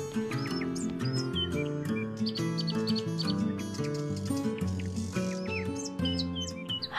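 Several birds chirp and tweet in quick overlapping calls over a steady tonal background, small bright notes scattered throughout at moderate loudness.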